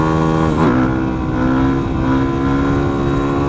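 A supermoto motorcycle rides a wheelie on its back wheel at sunset, its engine droning steadily and loudly throughout, with a rising rev near the start as the front lifts and no talking over it.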